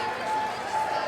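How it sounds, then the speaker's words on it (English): A loud crowd at a professional wrestling show roars in a dense, steady wash of cheering and noise that fills the arena without a break. "Man, is this crowd loud here tonight."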